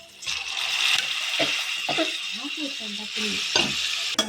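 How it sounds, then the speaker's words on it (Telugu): A spoon scrapes and stirs boiled broiler chicken through a thick curry in a pot, with steady sizzling underneath and a few sharper scrapes and clinks, close and moderately loud with no talk. "చికెన్ వేసుకున్నాం కదండి, బాగా తిప్పుకున్నాం"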